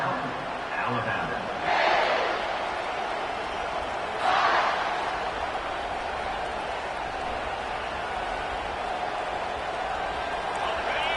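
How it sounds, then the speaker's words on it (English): Stadium crowd at an Alabama football game, a steady broad roar with two brief swells of cheering, while a commentator talks over it. "They challenge this crowd to bring the energy"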